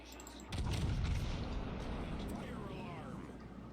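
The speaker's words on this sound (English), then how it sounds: "He's shooting at me." Enemy mech weapons fire in the video game MechWarrior 5, a loud sustained burst of booming, rumbling gunfire starting after a brief quiet moment and continuing steadily, heavy and close.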